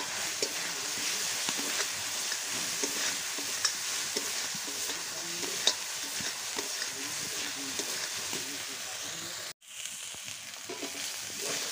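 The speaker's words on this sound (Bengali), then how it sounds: "এর মধ্যে দেব লঙ্কার গুঁড়ো, দিয়ে মশলাটাকে ভালো করে আমি কষিয়ে নেব" Spices with chilli powder stir-fry steadily in a pan for pointed gourd prawn curry, giving a continuous hissing sizzle with scraping stirs that briefly drops out near the end.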